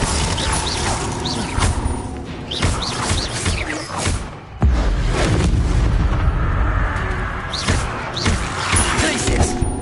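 Confringo, an explosive spell in a video game, is cast amid game effects: a run of thumps, booms and slams with whooshing bursts, continuous and fairly loud for about ten seconds, with a heavy impact near the middle.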